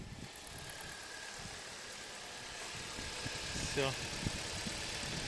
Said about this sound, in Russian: Все, тишина. Солярис завелся.